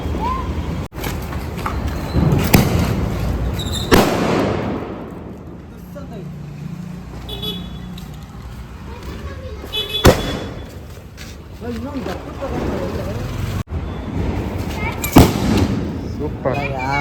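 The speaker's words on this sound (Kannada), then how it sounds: "ಈಗ ಲಕ್ಷ್ಮೀ ಪಟಾಕಿನ ಎರಡು ಇಟ್ಟು ರಸ್ತಾ ಇದ್ದೀನಿ" Lakshmi firecrackers set off at a Diwali celebration give several sharp, booming bangs spread across the stretch, some with a rumbling decay. Voices talk between the blasts.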